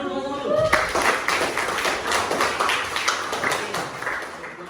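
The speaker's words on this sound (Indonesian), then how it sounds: "tepuk tangan dulu semua dulu" A classroom group breaks into clapping, a dense run of sharp claps spread across the clip at fairly close range, with a voice briefly heard at the start.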